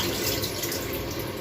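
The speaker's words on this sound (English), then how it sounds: "I'll add some water to it." Water poured into a pot of stew on the stove, a steady close splashing rush with no talking over it.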